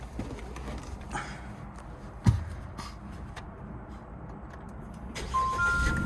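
A small Jeep Compass, a government surplus vehicle at auction, cranks and catches, then settles into a slightly rough idle. The sound is faint and somewhat distant, with a brief sharp clunk in the middle.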